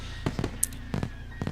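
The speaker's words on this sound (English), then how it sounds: "Minutes on end, Nako and I watched the fireworks overhead as Lily blissfully listened to them with her eyes shut." Fireworks bursting at a festival in the visual novel Katawa Shoujo: several soft, muffled booms come in short clusters at a moderate distance, with brief crackling between them and no voices.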